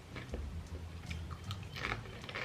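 Someone crunching and chewing buttery honey chips close to the mic, a series of crisp bites and wet chews in an uneven rhythm, fairly quiet, with no speech over it.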